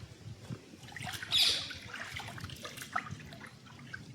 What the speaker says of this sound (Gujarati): એ પાણી અહીંયા નીકળે છે, જો કેટલું ફાસ્ટ નીકળે છે